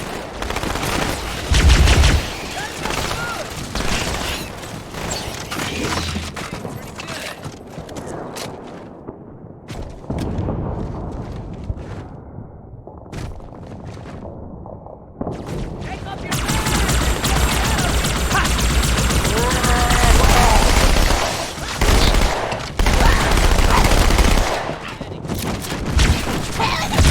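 Gunfire from the Halo 2: Anniversary video game, dense bursts of automatic shots and booming blasts that come and go over several stretches, loud and close amid battle noise.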